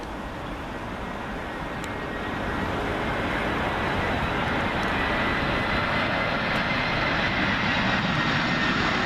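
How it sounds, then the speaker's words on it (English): Finnair Airbus A320 arriving at Heathrow from Madrid, a continuous broadband jet roar that builds after the first couple of seconds and then holds loud and steady. "Next arrival, Finnair A320, and this one from Madrid"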